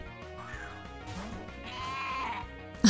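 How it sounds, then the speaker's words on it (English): A black sheep Pokémon's cry from the video game Pokémon Uranium: a synthetic, bleating call lasting about three seconds over a busy electronic backdrop, ending in a short loud burst. "Ah, the black sheep."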